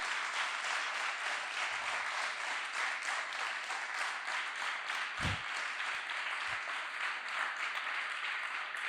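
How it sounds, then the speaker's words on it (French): Attendees at a data science bootcamp demo day in Paris applaud in a steady, faint, distant wash of clapping that holds evenly, with a couple of low thumps partway through. "Vous pouvez les applaudir, les féliciter"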